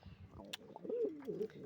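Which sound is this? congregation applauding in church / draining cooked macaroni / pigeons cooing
pigeons cooing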